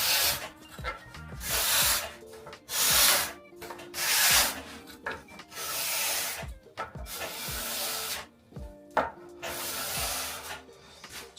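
A steel card scraper drawn repeatedly across steamed beech wood, making bursts of dry, hissing rasps in a steady back-and-forth rhythm with short pauses between strokes.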